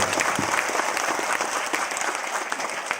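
A large audience at a motivational speech bursts into vigorous, continuous clapping that stays loud and thick for the whole three seconds.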